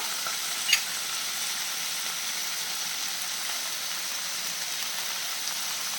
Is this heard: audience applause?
no